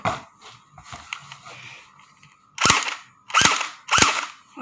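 An M4A1 gun is test-fired, three loud sharp shots spaced under a second apart after a stretch of quieter rustling and handling noise, close by with no talking.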